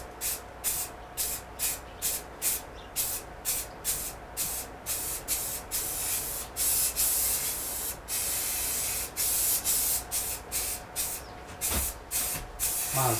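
A carved sign is spray painted in rapid short bursts, each a sharp hiss with brief gaps between, loud and near and repeating steadily throughout.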